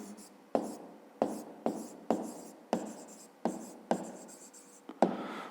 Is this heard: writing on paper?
yes